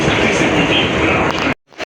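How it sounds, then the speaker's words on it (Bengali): A Kolkata Circular Railway train pulls out of Bagbazar station with a loud, steady rumble and rattle that fills the first second and a half, then cuts off abruptly into near silence with a brief faint noise. "আমাদের ট্রেন ছেড়ে দিল বাগবাজার স্টেশন থেকে"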